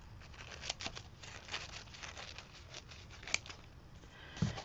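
Scissors snipping through paper for a mixed media art journal, a quick run of soft, close crisp cuts with light rustling in a quiet room.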